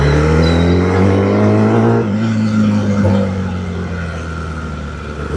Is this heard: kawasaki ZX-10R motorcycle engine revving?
yes